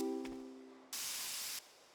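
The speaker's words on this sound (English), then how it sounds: "spray this top real quick" A spray nozzle in Spray Paint Simulator hisses out paint in one steady burst of about half a second, quiet and close. A faint tone fades out just before it.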